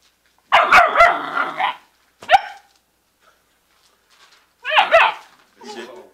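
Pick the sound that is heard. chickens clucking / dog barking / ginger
dog barking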